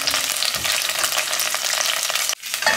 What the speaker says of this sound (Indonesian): Oke, kita tumis serai sama daun jeruknya.